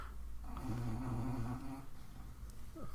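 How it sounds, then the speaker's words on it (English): A dog snoring loudly indoors, with a rhythmic rumbling snore drawn out over a couple of seconds, then a quieter breath. "the dog is snoring so fucking loud"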